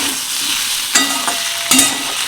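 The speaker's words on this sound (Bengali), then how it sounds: "সব মশলা দিয়ে ভালো করে কষিয়ে নেব" Spices with ginger paste and bay leaves fry in a pan for a fish roe curry, a close, steady sizzle broken by a couple of stirring scrapes.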